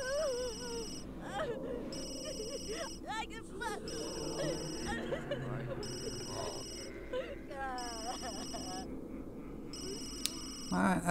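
A phone rings in The Sims 3 in repeated electronic bursts at a steady pace, under continuous talk over game music.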